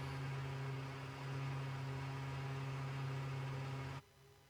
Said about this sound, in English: You can hear those Williams engines start to whine.